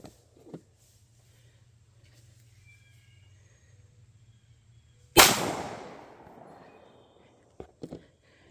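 A single sharp Canik TP9 Elite Combat pistol shot cracks loudly out of a low steady hum, with a long decaying tail behind it and a couple of faint knocks afterward.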